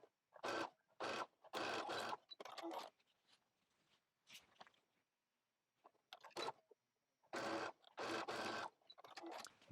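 A sewing machine stitches jacket facing pieces together in repeated loud bursts of rapid whirring, separated by short pauses, with no talk over the stitching.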